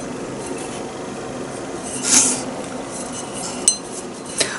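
A ceramic mug with a metal pattern is handled close up, giving soft rubbing and shuffling, a brighter clink in the middle, and two small sharp taps near the end, all quiet with no speech.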